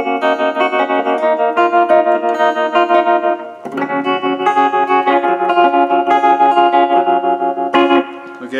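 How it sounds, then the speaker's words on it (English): An electric guitar played through a Crate Vintage Club 20 amp with tremolo, sustained chords pulsing steadily in volume, loud and close, with one brief break between strummed phrases. "Now here it is with a little tremolo."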